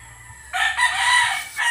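A rooster crows once, loud and close, a single drawn-out cock-a-doodle-doo rising after a short pause of quiet background.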